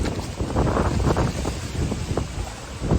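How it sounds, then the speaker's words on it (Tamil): Strong wind gusts roar and buffet steadily during a Chennai flood in 2023, with continuous rumbling noise close to the mic and no voices. "காற்றும் பலமாக உள்ளது. மணிக்கு பல கிலோமீட்டர் வேகத்தில் அடித்து கொண்டிருக்குது காற்று."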